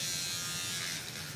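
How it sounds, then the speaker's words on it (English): An electric toothbrush buzzes close by near a dog during grooming, a loud, steady electric whine that holds constant and eases slightly toward the end. "This will not hurt them. It's just a toothbrush."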